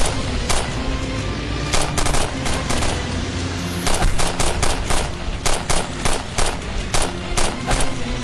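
Rapid bursts of machine gun fire rattle out in uneven volleys, loud and sharp, repeating throughout with brief gaps between bursts.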